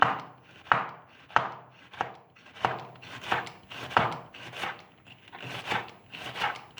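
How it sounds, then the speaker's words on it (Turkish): Rhythmic knife strokes finely chopping lettuce on a board, about a dozen crisp cuts in a steady pace, close and clear with no talking. "ince ince doğruyorum."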